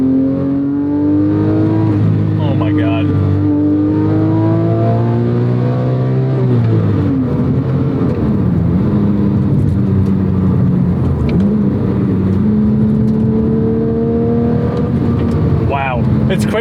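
Porsche 997.2 GT3 RS with the sport exhaust open, engine revving hard through rising and falling pitch sweeps, loud and close from inside the car, with a brief voice exclaiming.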